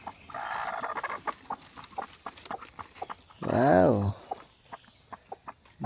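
A hen with newly hatched chicks gives soft, scattered clucks and peeps, broken by one louder, drawn-out squawk midway; a person's brief exclamation is heard too.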